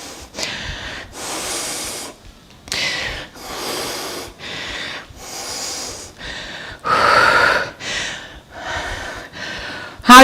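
Heavy, labored breathing after a yoga strength workout, with a series of loud gasping inhales and exhales in an uneven rhythm close to the microphone, ending in a sharp burst.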